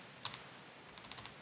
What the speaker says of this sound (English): Okay, I have to fix my keyboard.